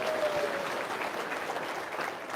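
Steady, dense audience applause at a parenting lecture, a continuous wash of many hands clapping close up with no pauses.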